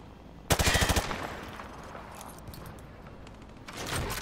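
Rapid automatic gunfire firing through light cover on a Call of Duty: Modern Warfare 2 training range, a short loud burst of quick shots followed by fainter scattered impacts and a rising rumble at the end.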